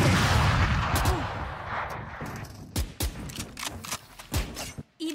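Gunfire in the Valorant video game: a series of sharp, separate shots crack out over a dense, rumbling background of game noise, several of them close and loud near the end.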